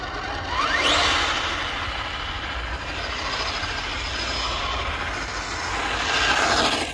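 A Hobbywing Fusion Pro 2300kv brushless motor in an RC crawler running on 3S at full throttle, a loud continuous whine with a rising pitch sweep near the start, steady and close, with no talking.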